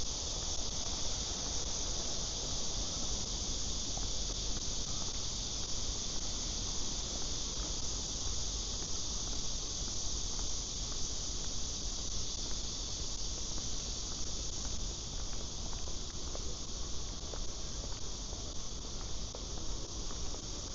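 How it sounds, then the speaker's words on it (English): Loud cicadas at night on a quiet street in Seoul, a dense, unbroken high-pitched buzzing drone that holds steady throughout with no voices. "Some of the loudest cicadas I've ever had to endure."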